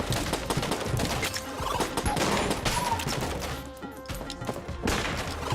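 Sniper shots ricocheting in the twin-stick shooter Enter the Gungeon, a dense, busy barrage of sharp impacts and crashes layered over game music, with a brief lull before another burst near the end.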